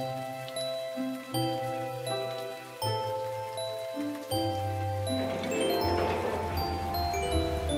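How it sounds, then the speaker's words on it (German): Cartoon rain drips in an animated toddler show: a series of light, plinking ticks and tinkles scattered over a soft musical bed, fairly close and even in level, with no voices. "Es regnet. Tropf, tropf."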